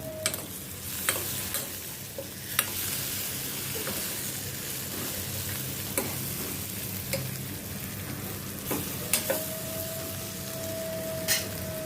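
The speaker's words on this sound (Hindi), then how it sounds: "अभी ये सभी भिंडियाँ मैं इसमें डालती हूँ, थोड़ा फ्राई करती हूँ इनको।" Okra (bhindi) frying in hot oil over a medium-high flame, with a steady loud sizzle and repeated sharp spoon taps and scrapes against the pan.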